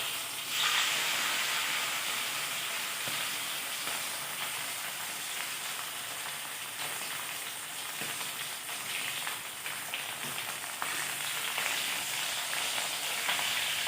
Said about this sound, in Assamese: আলু কেইপিচো ধুনীয়াকৈ ৰঙচুৱা নপৰালৈকে ফ্ৰাই কৰিব লাগিব